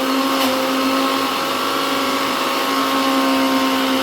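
A kitchen mixer grinder grinds masala for a Mori (shark) fish curry, a loud, steady high-pitched motor whine running continuously and close up with no talking.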